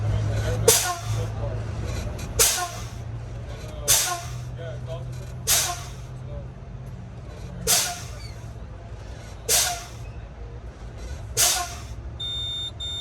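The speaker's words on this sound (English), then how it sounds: "I'm going to lower the pressure by pumping on the brakes until I hear an alarm" Sharp truck air brake hisses repeat at regular intervals, about every one to two seconds, as the brakes are pumped to lower air pressure, while a low engine idle hums beneath and a low air warning alarm sounds at the end.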